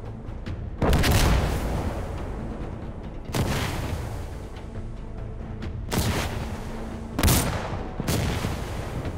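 Sharp, loud M16A4 rifle reports from Insurgency: Sandstorm, four separate shots spaced a couple of seconds apart, each with a booming tail that rings out between them.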